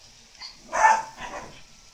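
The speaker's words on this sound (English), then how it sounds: "Do not bark at me like that." A dog gives a short, sharp bark followed by a softer second yip, heard close in an otherwise quiet indoor space.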